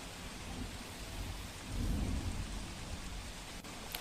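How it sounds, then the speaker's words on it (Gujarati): Heavy rain pours steadily over Ahmedabad with a low rumble of thunder swelling midway, then a sharp crack near the end; no voices. "અમદાવાદમાં ધમાકેદાર વરસાદ પડ્યો છે"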